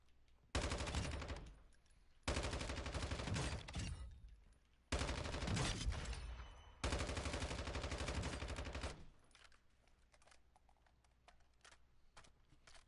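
Rapid automatic gunfire in the video game Call of Duty DMZ, four loud sustained bursts separated by short pauses, then fading to quiet background.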